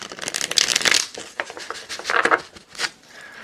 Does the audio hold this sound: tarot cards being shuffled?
yes